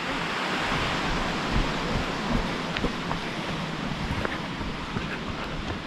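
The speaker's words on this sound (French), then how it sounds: "Je vais voir la cascade, elle est là, elle est trop belle." A waterfall along a trail in the Jura near Saint-Claude, a steady broadband rush of falling water that sounds close and loud, with wind buffeting the microphone and no talk.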